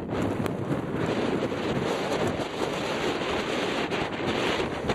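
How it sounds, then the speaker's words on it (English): Strong gale-force wind buffets the microphone at the Mindy Mindy lookout on a freezing day, a loud, steady roar with rumbling gusts throughout and no voices. "And blowing a gale"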